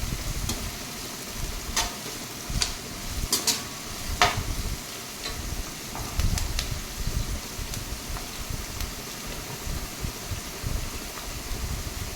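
Onions and green chillies fry in a pan for a dhaba-style chicken tikka, a steady sizzle running throughout with sharp scraping stirs and clinks of a spoon against the metal every few seconds; no one speaks.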